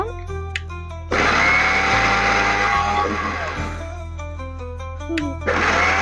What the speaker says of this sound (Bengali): আমি এই যে ঢাকনা দিয়ে দিব, চিনিগুলো ভালোভাবে গুঁড়ো করে নিব